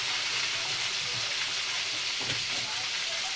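Food frying in hot oil in a pan, a faint continuous hiss with scattered small pops and crackles, fairly quiet and steady without talk.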